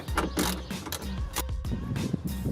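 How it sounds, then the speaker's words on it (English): An 8mm deep socket on a ratchet wrench tightens bolts on the rear center taillight garnish of a Subaru Legacy/Outback, giving a rapid, close clicking of the pawl in uneven bursts. "reuse that 8mm deep socket to place all the bolts back"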